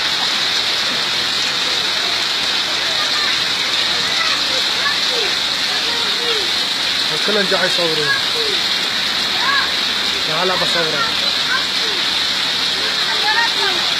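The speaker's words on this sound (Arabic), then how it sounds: "لا عم بصور المطر" Steady heavy rain hissing on surfaces outdoors, a dense continuous wash throughout, with people talking briefly over it.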